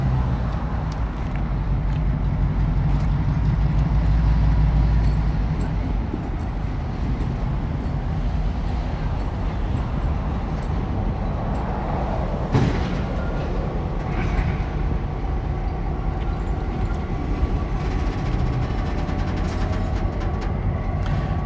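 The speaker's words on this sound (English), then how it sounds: "Here comes the locomotive again." An SD7 diesel locomotive approaches during yard switching, its loud, steady engine rumble and rolling wheel noise holding throughout, with one sharp clank partway through and no talking.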